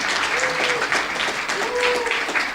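Audience at an economic development luncheon clapping in a steady round of applause, a dense wash of hand claps throughout with a few voices mixed in.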